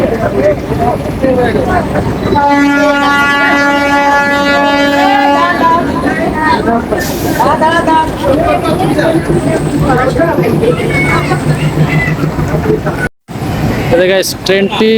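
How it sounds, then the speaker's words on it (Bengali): A local train pulls out of Jagati railway station in Bangladesh, running between Goalanda Ghat and Poradaha; a loud horn blast with stacked tones is followed by steady rumbling and clattering as it departs, with voices talking nearby. "মাত্র দুই মিনিট পরেই ছেড়ে দিল দুই মিনিট এখানে স্টপেজ দিয়েছিল তারপরে এখান থেকে আবার ছেড়ে দিল"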